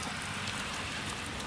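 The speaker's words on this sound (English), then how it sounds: "it is raining" Steady rain pours down throughout while driving, a dense continuous hiss of drops on the car with no talking.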